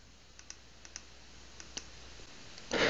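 Several sharp, faint computer mouse clicks spaced irregularly over a few seconds while browsing a monitoring web interface, followed by a louder burst of noise at the end.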